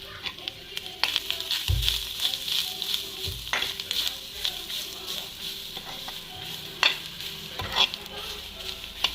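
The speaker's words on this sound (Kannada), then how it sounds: "ಎಣ್ಣೆಗೆ ಒಳ್ಳೆ ಮಾಡಿ ಫ್ರೈ ಮಾಡಬೇಕು ಬೆಳ್ಳುಳ್ಳಿ ಜೊತೆಗೆ" Garlic and coconut fry in oil for a garlic chutney, a steady close sizzle with repeated stirring scrapes and soft clatters throughout.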